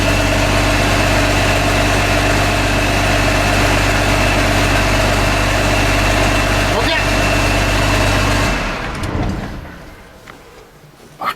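Vehicle engine running at a steady, loud idle with a constant rumbling drone, then cutting out near the end into quieter background noise and a brief clunk.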